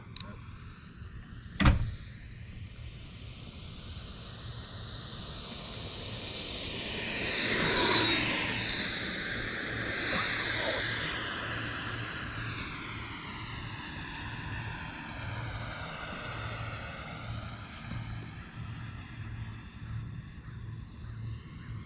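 A propeller aircraft flies overhead, its droning engine whine sweeping up and down in pitch as it passes and banks, with a sharp click near the start and a steady hum underneath.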